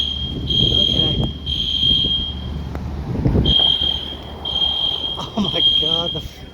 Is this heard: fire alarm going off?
yes